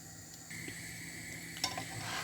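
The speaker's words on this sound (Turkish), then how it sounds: "Şimdi altı çok güzel bir şekilde kızaracak." Potato gözleme fries quietly on a hot griddle, a soft continuous sizzle with a faint scrape or tap partway through and a slight rise in crackle toward the end.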